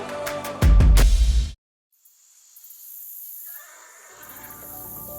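A horse whinnies loudly and close for about a second, then the sound cuts to silence before a soft insect-like chirring ambience rises in the background.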